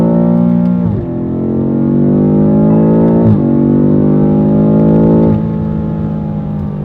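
BMW F90 M5 V8 in sport mode, a loud close engine drone that climbs in pitch, dips and revs again several times, with no talking.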